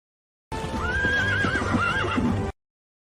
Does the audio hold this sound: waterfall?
no